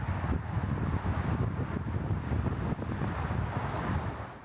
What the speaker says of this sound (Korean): 바람이 불어 조금은 추웠지만